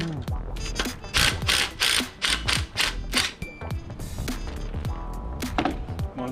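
Ratchet wrench loosening a bolt on a Honda Prelude engine during an H22A swap, giving a run of sharp, close metallic clicks and clacks in irregular bursts, loud and alone without talk.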